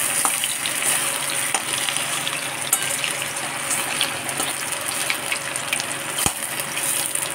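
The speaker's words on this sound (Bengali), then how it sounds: "ফুলকপিগুলোকে যেভাবে ফ্রাই করলাম সেগুলোকেই আমি সেরকমভাবেই আলুটাকে ফ্রাই করব" Potato pieces frying in a little oil in a pan, giving a loud, steady close-up sizzle with occasional clinks and scrapes of a utensil.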